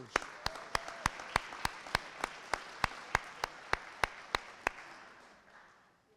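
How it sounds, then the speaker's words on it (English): Steady, evenly spaced claps ring out in unison over a soft crowd wash at a school sports awards event, about eighteen sharp beats, then the clapping stops and the noise fades. "Let's give another round of applause for all of our basketball players."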